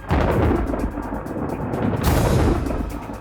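Loud, sustained rumble of thunder rolling through a summer storm, broad and heavy, with a fresh crack and swell about two seconds in, no voices present.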